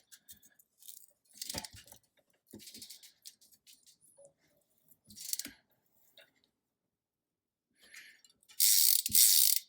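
Ratcheting clicks of a tool threading an XD driver onto a Ritchey bicycle wheel hub, sounding in short separated bursts of mechanical clicking, close up, with a louder rasping burst near the end.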